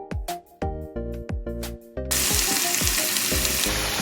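Purple potatoes start frying in a hot pan: a series of sharp clatters and knocks as pieces drop in, then a loud, continuous sizzle that fills the rest of the clip.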